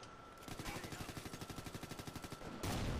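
Automatic gunfire in the video game Ghost Recon Future Soldier, a rapid evenly spaced burst of about twenty shots lasting two seconds, followed by a louder noisy blast, all at low level.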